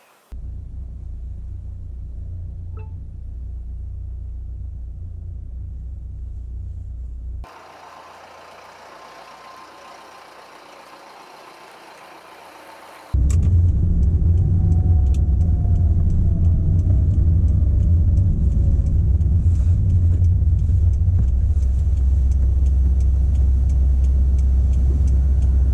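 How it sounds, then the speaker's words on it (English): Steady low road and engine rumble from inside a car on a commute, quieter for a stretch and then louder and fuller as it picks up, with no talking. "I'll just see how it feels driving the car."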